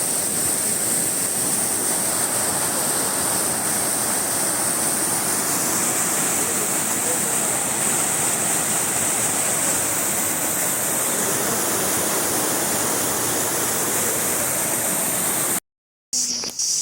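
A waterfall near Chennai roars as a loud, continuous wash of falling water, steady and close throughout, with a brief dropout near the end and no speech.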